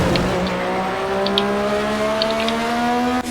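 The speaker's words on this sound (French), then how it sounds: "On entend vraiment le bruit du moteur." Racing car engine in the Project Cars video game, a loud continuous drone with rising tonal pitch as it revs, steady throughout with a few faint ticks on top.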